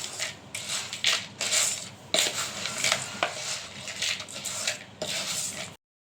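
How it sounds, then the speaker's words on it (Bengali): A spoon clatters and scrapes in a bowl while Maggi chaat ingredients are mixed, with irregular clinks and scraping strokes close by and no talking. "এটাকে ভালো করে মিক্স করে নেব"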